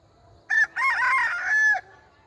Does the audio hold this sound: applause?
no